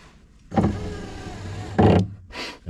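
A car power window regulator motor, fitted with a replacement plastic gear, whirs in a short run of just over a second, then strains briefly louder, followed by a second quick buzz, close and alone.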